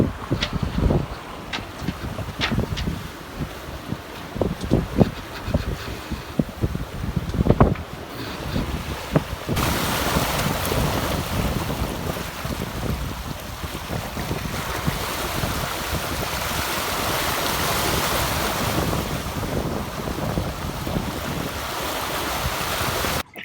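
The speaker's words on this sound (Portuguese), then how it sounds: "Daqui o vento tá bem de trás da gente." Steady wind and rushing waves aboard a sailboat running downwind under its genoa, loud and continuous, with some thumps and creaks early on before a sustained broadband wash of wind noise.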